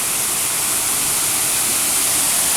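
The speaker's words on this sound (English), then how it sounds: "I'll just get closer to this waterfall." A waterfall near a hotel roars as a steady, loud, dense rush of falling water that fills the whole moment without a break.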